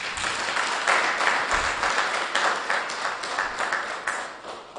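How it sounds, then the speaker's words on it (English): An audience at a gala dinner applauds, a dense sustained patter of many hands clapping, moderately loud and continuous for several seconds. "Can we give a round of applause for that?"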